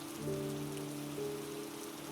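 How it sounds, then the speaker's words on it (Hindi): Light rain falls in a Hindi horror cartoon set near a forest pond, a faint, even patter under a low, steady droning tone, with no talking. "आज बारिश भी ज्यादा नहीं है"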